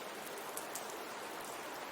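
Steady rain on a rainy night, a dense, even hiss of drops close by with no other sounds.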